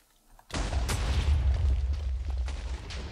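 A cannon firing in the Minecraft video game during a castle battle map: one sudden loud boom that bursts in and rolls on as a sustained rumble, close and dominant.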